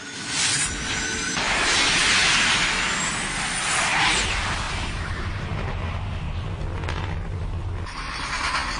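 A loud, sustained roaring rush like rocket thrusters, with a deep rumble and hissing bursts that settle into a lower drone near the end.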